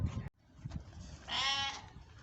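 A single sheep bleats once outdoors, a short wavering cry heard fairly close after a brief rustle, with quiet background and no talking.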